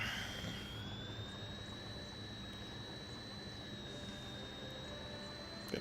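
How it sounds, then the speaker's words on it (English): A video game Sherman tank fitted with a jet turbine engine gives off a steady, sustained high turbine whine over a broad rumble, running continuously at moderate level. "Got a Sherman tank with the jet engine, turbine engine."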